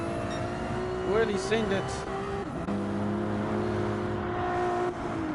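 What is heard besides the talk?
racing car engines (BMW, Ferrari) in a racing video game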